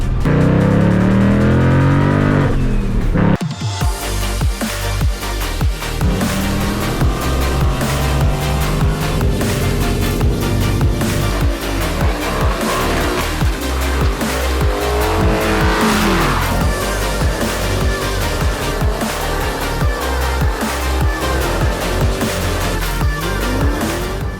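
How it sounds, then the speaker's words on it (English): A loud, revving ProCharger-supercharged Ford Mustang engine roaring close by, rising and falling in pitch with a high supercharger whine on top, continuous throughout with no talking. "you can't beat that ProCharger sound, man. That ProCharger sound is so sick."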